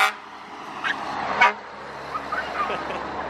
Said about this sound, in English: you guys remember how to get a truck to honk?